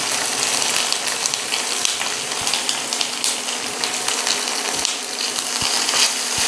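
Chopped onion and green chilli sizzle in a pan with ginger and garlic, a loud, steady hiss of frying with small crackles scattered throughout and no voices over it.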